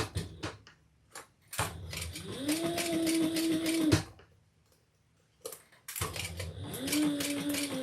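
Sewing machine basting leather at about 1/8 inch, running in two bursts of steady stitching separated by a short pause, with quiet handling sounds around them.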